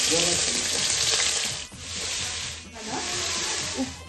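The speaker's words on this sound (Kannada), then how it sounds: "ಎಣ್ಣೆ ಚೆನ್ನಾಗಿ ಕಾದಿದೆ. ಈ ಟೈಮಲ್ಲಿ ನಾನು ಸ್ವಲ್ಪ ಈರುಳ್ಳಿನ ಸೇರಿಸ್ಕೊತಾ ಇದ್ದೀನಿ." Onions frying in hot oil for a country chicken (naati koli) gravy, a loud, steady broadband sizzle with brief dips as the pan is stirred, no talking.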